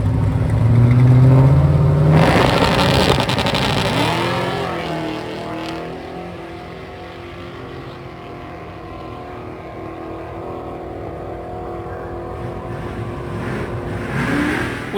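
A car with a Hellcat supercharger on a 6.0L LS V8 launches down a drag strip, a loud roaring rev and acceleration that fades into the distance, followed by distant engine noise rising again near the end.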